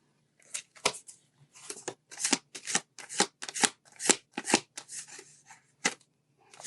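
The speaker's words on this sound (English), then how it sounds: "Let me pull you some oracle cards." Oracle cards being shuffled by hand, a run of crisp riffling bursts and soft slaps in quick uneven succession, close and clear with no talking.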